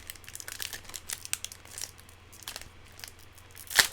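Foil wrapper of a trading card booster pack being torn and crinkled open up close, steady rustling with scattered crackles and a sharp rip near the end.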